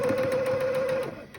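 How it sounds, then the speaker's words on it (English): A sewing machine runs in a short, even burst while stitching shut the edges of a fabric face mask with a filter pocket, a steady whirring hum that stops abruptly after about a second. "Now we're going to sew those 2 edges shut."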